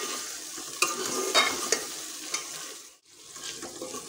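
Onions and tomatoes fry in a hot pan with salt, chili, turmeric and spice masala, giving a steady close sizzle broken by a few sharp stirring scrapes and knocks and a brief lull near the end.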